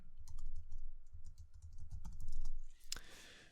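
Rapid keystrokes on a computer keyboard as a password is typed, a quick run of light clicks ending in one sharper press of the enter key.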